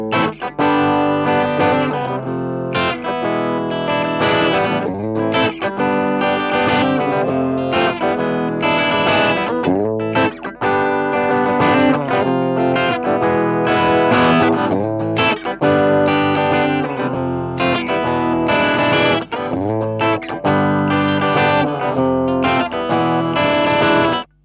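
Distorted electric guitar strung first with 9-gauge and then 8-gauge strings, played in a continuous, loud riff with effects and sustained chords throughout, no talking.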